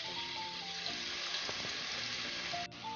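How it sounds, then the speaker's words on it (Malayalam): Sliced onions sauté in a pan for an Afghan beef pulao, giving a soft, continuous frying hiss with faint stirring and light background tones, no speech. "എന്നിട്ട് സവോള നമുക്ക് നന്നായിട്ട് വഴറ്റാം."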